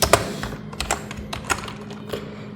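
Typing a pip install command on a computer keyboard, a dozen or so uneven key clicks in short clusters, close and crisp with a low hum beneath.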